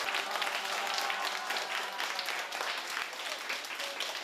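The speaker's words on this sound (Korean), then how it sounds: "박수!" Class-closing applause from students in a classroom, a steady dense patter of clapping that holds evenly for a few seconds with no voices over it.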